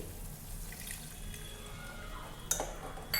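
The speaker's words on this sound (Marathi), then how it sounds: "आता त्यात पाणी घालू पाणी घालणार आहे" Water splashes and trickles into a cooking pan holding peanuts and chillies in a soft, continuous stream, with a couple of sharper clinks near the end.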